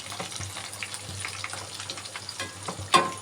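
Chicken pakoras fry gently in oil over low heat, a soft continuous sizzle with light crackles and a brief sharper splash near the end, heard alone without talk.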